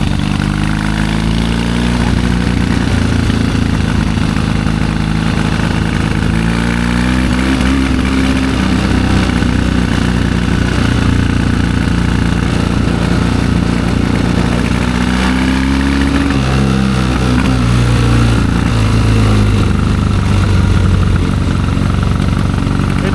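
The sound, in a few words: 1972 Triumph 650 Bonneville motorcycle engine running and revving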